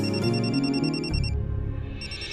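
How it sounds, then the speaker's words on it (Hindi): A phone ringtone plays loudly, a repeating electronic melody with a brief pause before it resumes. "अरे ये फोन किसका बज रहा है?"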